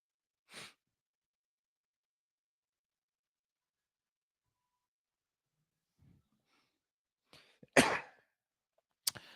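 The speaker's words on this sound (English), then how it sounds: "I'm sneezing." A person sneezes, a few short sharp bursts scattered through otherwise near-silent quiet, with one small sneeze near the start and a louder cluster near the end.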